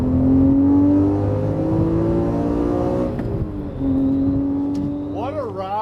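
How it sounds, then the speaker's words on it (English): A 2014 Porsche Cayman S revs hard through downshifts, its engine note climbing and dropping in sweeping tones, loud and close from inside the cabin, with a quieter stretch before another rising rev. "why don't you downshift and let her rip, Tater Chip?"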